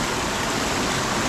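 Water rushing through an irrigation channel in a rice field, a dense continuous hiss of flow, loud and near, with no voices over it.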